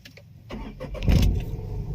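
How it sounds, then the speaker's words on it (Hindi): A Tata Altroz hatchback engine cranks with a few quick starter bursts, catches with a loud low thump just past one second, then settles into a steady close idle, with no talking. "गाड़ी स्टार्ट हुई"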